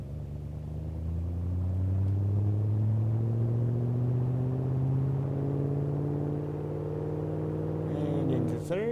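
Simulated car engine in BeamNG, driven in second gear with a manual transmission, a steady low rumble rising gradually in pitch, loud and continuous, ending with a brief clunk of a gear change.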